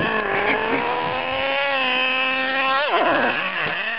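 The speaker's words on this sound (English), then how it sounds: "You can't like rev it heavily" A small RC car's motor revs in a sustained, loud whine. The pitch holds steady at first, then wavers up and down in short surges near the end, with no speech.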